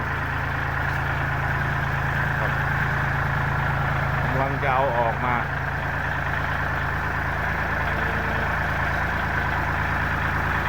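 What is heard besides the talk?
tractor engine idling after starting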